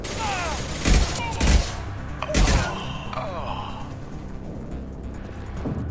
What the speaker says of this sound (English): Good shot, Garrus.